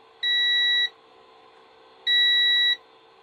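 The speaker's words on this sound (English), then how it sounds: "So that's continuity test." A multimeter on its continuity setting gives two clear, high electronic beeps, each lasting under a second, separated by a short pause, over a faint background hum.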